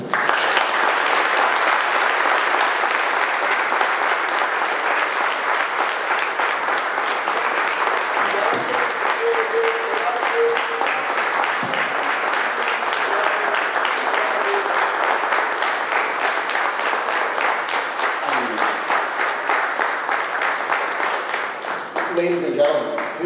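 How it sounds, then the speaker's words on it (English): An audience at a retirement celebration at The Mezz keeps up long, dense applause, many hands clapping loudly and steadily, with a few brief voices and cheers rising through it near the end. "Another round of applause, please"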